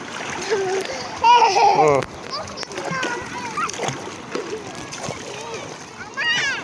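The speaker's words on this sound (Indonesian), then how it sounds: "kami lagi mandi laut WP" Sea water splashes and sloshes as a family bathes in calm ocean water, with children and adults talking and calling out throughout over the continuous watery churn.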